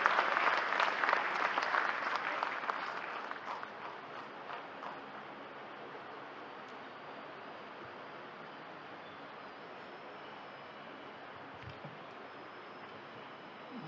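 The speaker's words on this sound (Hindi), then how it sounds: "जोरदार तालियों के बीच स्वागत कीजिए" Loud audience applause welcomes Union minister Nitin Gadkari at a Madhya Pradesh event launching new road and bridge construction technology. The clapping is strong at first, then thins and fades to a low murmur.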